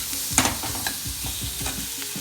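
Cabbage stuffing with spices, Indian style, sizzles steadily in a hot pan, with repeated scraping stirs of a spatula close by and no talking.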